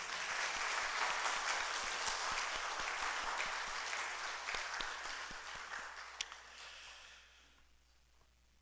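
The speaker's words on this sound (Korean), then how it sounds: "우리 모두에게는 기쁨의 박수로 함께 서로 격려해 주시기를 바랍니다." A church congregation applauding during a Sunday service, a dense sustained wash of clapping from many hands that thins and fades out over the last couple of seconds.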